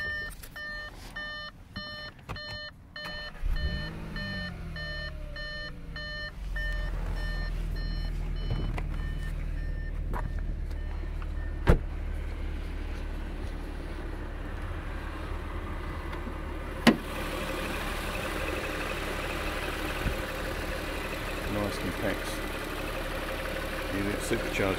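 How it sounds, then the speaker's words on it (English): A few electronic beeps, then the supercharged 3.0 TFSI engine of an Audi S4 Quattro settles into a steady, low idling hum that carries on evenly throughout. "Just have a listen to the engine because it does sound quite sweet."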